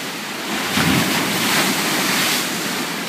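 Ocean surf washing against granite at Thunder Hole on the Maine coast in Acadia National Park, a broad rushing wave swell with wind buffeting the microphone, close and steady.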